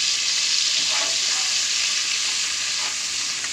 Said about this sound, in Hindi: ये मैं हींग भी इसमें डाल दूँगी अब मैं इसको अच्छे से हिलाऊंगी